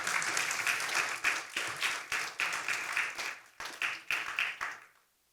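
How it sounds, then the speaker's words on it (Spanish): A church congregation applauds the Lord during a worship service, a dense wash of many hands clapping steadily for about five seconds with louder individual claps punctuating it, then stopping abruptly into near silence. "Puede aplaudir al Señor con confianza."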